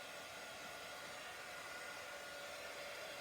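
A heat gun blows steadily over a fall-themed handmade card to heat set it, a constant whooshing fan-and-air hiss, fairly faint and uninterrupted for a few seconds with no voices.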